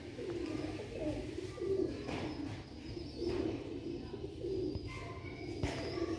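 Soft, repeated coos from Sialkoti rooftop pigeons in a steady low rhythm, close by, with faint chirps and light background noise.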